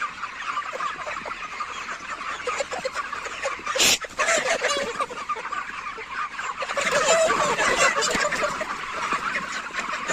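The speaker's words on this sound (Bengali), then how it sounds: "এইভাবে খেদাচ্ছি কারণ পাখিগুলো ওই পাশে যাচ্ছে না" Poultry chickens on a farm cluck and squawk in a dense, busy chorus while being driven along, with a sharp rustling burst midway and the flock growing louder toward the end.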